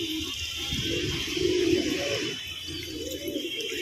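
Pet pigeons cooing at a water trough outdoors at sunset, soft low repeated coos in a couple of rounded phrases, fairly quiet against a steady high background hiss.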